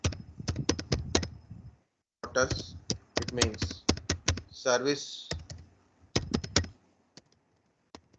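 Quick bursts of computer keyboard typing, rapid clustered key clicks in several runs separated by pauses, with a person talking over and between them.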